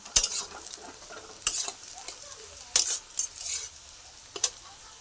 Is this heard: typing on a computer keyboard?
no